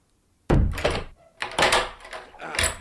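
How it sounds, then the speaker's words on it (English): A door is bolted shut, with a series of heavy, close wooden thunks and clunks as it closes and the bolt slides home. "Bolted in now."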